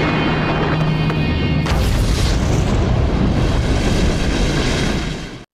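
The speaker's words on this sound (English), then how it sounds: "Benny gets out of dodge before the flames reach the truck, which soon erupts in a fiery explosion." A truck erupts in a fiery explosion in the horror film The Texas Chainsaw Massacre 3: a loud, sustained roaring blast with a sudden surge partway through that rumbles on before cutting off abruptly.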